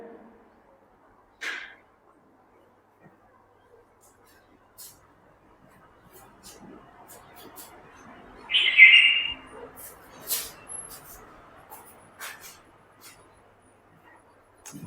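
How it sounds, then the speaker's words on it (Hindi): Small bird calling inside a classroom during a lecture, a few short chirps and one clearer tweet midway, faint against a quiet room with soft background shuffling. "क्लास में एक चिड़िया आ गया है।"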